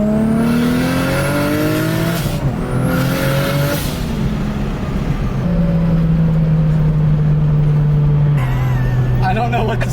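A Datsun 280Z with a swapped 1JZ engine makes a second-gear pull from 3,000 RPM. The loud engine note climbs and holds while the turbo spools, with voices in the cabin over it.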